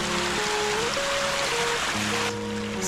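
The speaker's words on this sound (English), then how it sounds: "it's filling up with hot water pretty quick" Hot spring water pouring into a pool in the Alaskan rainforest, a steady close rushing and trickling flow of water that continues throughout, with a faint hum underneath.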